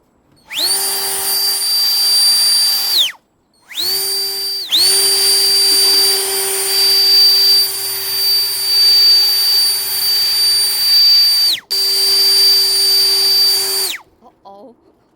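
A SAKER portable cordless leaf blower and dust cleaner runs close by with a loud, high-pitched whine. It spins up and cuts off three times, with long steady bursts and short silent gaps between them.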